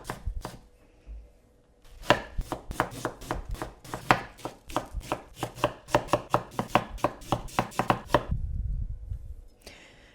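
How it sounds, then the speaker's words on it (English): Knife chopping pepper and chili on a cutting board for chicken and vegetable noodles: a quiet start, then a rapid run of sharp, close, evenly spaced chops that end in a low thud and rustle. "So I'm just gonna thinly slice these things and finely chop these things."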